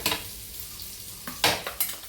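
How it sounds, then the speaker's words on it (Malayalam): Mustard seeds splutter in hot oil in a pan, giving a sizzling bed broken by sharp, close crackling pops and a few louder bursts near the end, with no speech. "നമുക്ക് കടുക് പൊട്ടിക്കാം കേട്ടോ"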